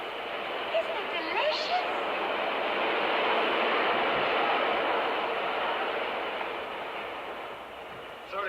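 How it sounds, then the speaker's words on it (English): A steady broadband rumble of an underground subway train passing beneath a sidewalk in a Billy Wilder film, swelling slightly in the middle and fading toward the end, with no talk over it. "The only other thing happening on the sidewalk is the underground subway passing by."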